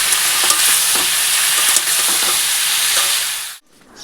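Jackfruit frying in oil with whole garam masala and cumin seeds, a loud, close, continuous sizzle with occasional stirring scrapes that cuts off abruptly near the end.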